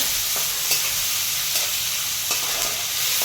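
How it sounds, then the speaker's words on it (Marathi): Tomatoes and green peas frying in a pan, a loud, dense and steady sizzle up close, with occasional soft scrapes of a spoon stirring through it and no talking. "हे चांगलं परतून घेऊ आपण, चांगलं लालसर परतून घ्यायचं आपल्याला"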